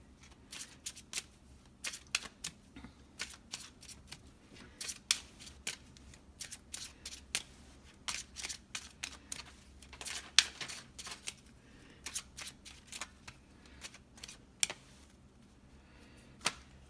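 Lenormand cards being shuffled by hand in a quiet room, a steady run of crisp, papery riffles and flicks at close range, with no talking.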